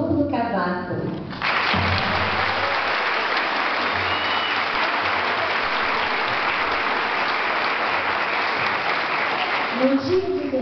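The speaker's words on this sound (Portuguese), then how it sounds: "eu convido vocês a dar uma salva de palmas" Sustained audience applause for a special guest at a school graduation ceremony in Belo Horizonte, loud and dense for about nine seconds, with brief speech at the start and end.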